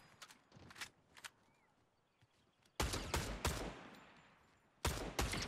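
Gunfire from a weapon in the video game Fortnite, with a few light early shots followed by two loud, sharp bursts of rapid fire separated by a short quiet gap.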